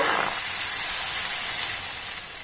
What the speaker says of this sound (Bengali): আবারও এক হাতা ব্যাটার আমি দিয়ে দেব